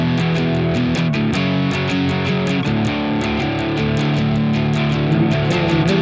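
A loud distorted electric guitar drives the riff from a song, with sustained chugging chords and steady percussive hits sounding close and alone.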